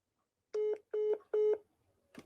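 A telephone dials out: three evenly spaced, loud electronic tones sound close and alone, then fall silent with a faint click at the end as the unanswered call times out.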